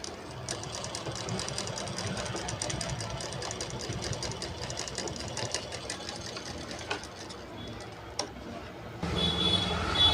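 A sewing machine stitching the lining of a blouse runs in a fast, steady, close mechanical whir that grows louder near the end.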